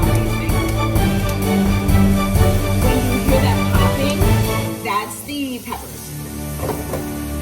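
Seeds sizzle and fry in hot oil, a busy continuous crackle with stirring clatter near the end.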